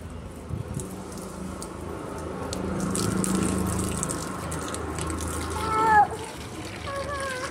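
Water splashes and trickles onto plants in a home yard, a steady wet patter running throughout with a brief gush near the end, while people talk nearby.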